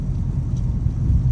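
Catless RT car engine rumbling while driving in the rain, a steady deep low drone heard from inside the car, close and continuous with no talk.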